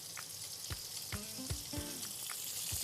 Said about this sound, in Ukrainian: ми смажимо цибулю порей